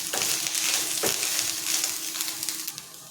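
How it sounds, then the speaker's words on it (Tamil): Grated coconut and curry leaves sauté in a pan for a curry-leaf chutney, giving a steady close sizzle with a few scraping stirs and no voices. "அதை சேர்த்துக்கிறேன். ஒரு நிமிஷம் வதக்கி விட்டுக்குவோம்."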